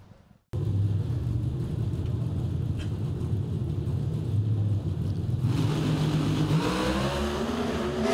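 NHRA drag racing cars launch down the strip with a loud, sustained engine rumble after a brief quiet start, building into a rising roar near the end.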